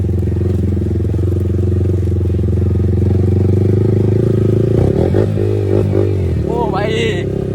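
A Yamaha R15 V4 motorcycle with a full-system exhaust idles loud and close with a steady, throaty drone, then blips and revs several times with rising and falling pitch. Voices talk over the engine near the end.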